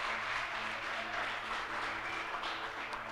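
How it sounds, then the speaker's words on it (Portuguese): A church congregation applauds in a steady, dense wash of clapping that fills the room evenly for a few seconds, with no voices standing out. "Você pode aplaudir ao Senhor por isso?"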